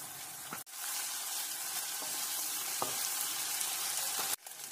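Cumin, ginger paste and finely chopped green chilies fry in a pan while being stirred, making a loud, steady close sizzle with occasional scraping taps, broken by brief cuts.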